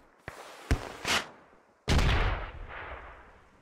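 A rocket explodes in the Squad video game with a heavy, close blast and a long rolling rumble, following several sharp gunshots amid a battle between U.S. forces and militia.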